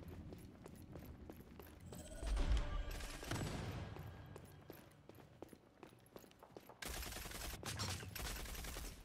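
Rapid bursts of video game gunfire, sharp cracks in quick clusters, loudest in the middle and again near the end, over faint background shuffling, with no talking.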